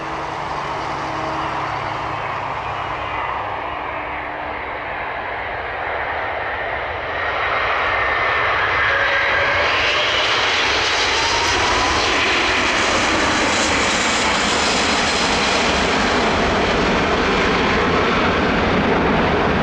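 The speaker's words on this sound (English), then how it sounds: "This Airbus A380 aborting its landing attempt after touching down too late." An Airbus A380 aborting its landing and going around, its jet engines roaring loud and continuous, swelling steadily stronger partway through with no voices.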